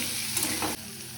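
Onions fry in a pan for mutton kosha, a steady close hiss of sizzling oil with a soft stir near the end before the sizzle dips slightly.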